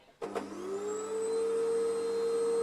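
A vacuum starts with a thump and spins up into a steady, loud whine that holds constant.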